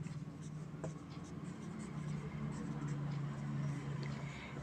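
Faint, scratchy pen or chalk strokes on a board, made while labelling a triangle during a trigonometry lesson. The soft, short marks sit over a steady low room hum.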